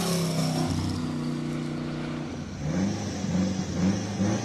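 Turbocharged Porsche 924 GTP tribute with a small wide body launching from a start line at a classic car speed event, a rising engine note climbing through the revs, heard from moderate distance.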